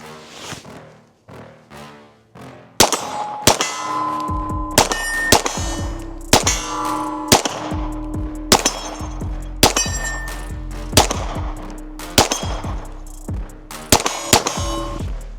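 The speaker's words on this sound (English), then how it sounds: "Let's shoot these things a little bit." Sharp pistol shots from a Staccato XC fired at a target 30 yards away, about a dozen loud cracks in an irregular string, each with a ringing metallic ping from steel plates and a short echo.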